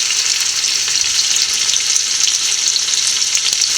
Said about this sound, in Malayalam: നല്ലപോലെ ചൂടായതിന് ശേഷം നമുക്ക് സവോള വഴറ്റിയെടുക്കാം.